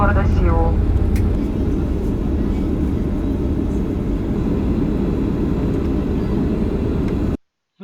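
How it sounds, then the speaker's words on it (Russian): Airliner cabin after landing at Incheon airport in Seoul, with a steady loud low engine and ventilation rumble throughout and a brief tonal chime near the start; the sound cuts out abruptly at the end. "Наш самолет произвел посадку в аэропорту Инчон, города Сеул."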